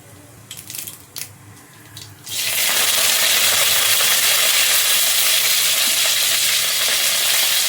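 Mustard seeds, cumin and curry leaves hit hot oil for a Mumbai vada pav tempering, bursting into a loud, steady crackling sizzle that fills the rest of the clip after a few seconds of quiet stirring and clinks.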